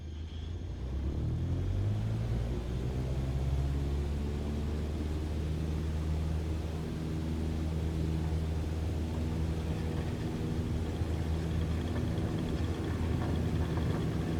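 A propeller plane in Microsoft Flight Simulator rolls down the runway, its engine a steady low droning hum with rising harmonic tones, continuous and moderately loud with no talk over it.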